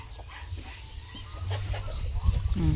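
Turkeys calling in a farmyard, several gobbling and clucking calls over a busy, noisy outdoor background, fairly close.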